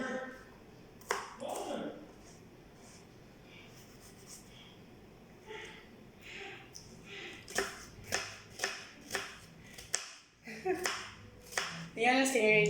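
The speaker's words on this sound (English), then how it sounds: "We chop it up real good, diced preferably." A knife dices onions on a chopping board for homemade lasagna, a run of crisp, evenly spaced taps near the end, with a voice talking around them.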